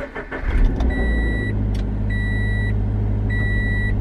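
A Subaru BRZ on stiff coilovers on a road trip: a steady low engine and road drone inside the car, with a repeating electronic chime beeping three times over it.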